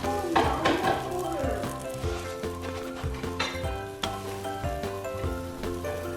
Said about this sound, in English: Look at those yummy pancakes. These are cooking perfectly.